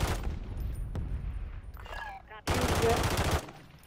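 Automatic gunfire in Call of Duty Warzone, rapid bursts with a loud sustained volley in the second half, game sound effects and teammates talking around it.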